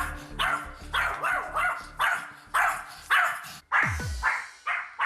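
A very anxious, highly excitable dog barks close by in a steady series of about nine sharp barks, with a whimpering yip breaking the rhythm near the end.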